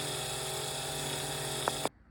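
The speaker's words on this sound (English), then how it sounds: "just slowly step up your drill bits until you get a bolt that fits through that thread." A power drill bores through thin sheet metal with a drill bit while fitting a BJ Landers gear platform. A steady, loud whine runs continuously, then cuts off abruptly near the end.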